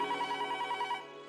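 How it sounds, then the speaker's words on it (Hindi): A telephone rings indoors in a Hindi TV comedy scene: a short burst of rapid, trilling bell tones lasting about a second, then a brief fading tail, with no voices. "ये फोन बजा।"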